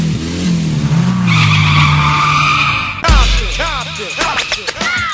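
Car braking and skidding used as a sound effect in a rap track, a long squealing tire skid that fades before a sharp cut into a punchy beat with rhythmic hits.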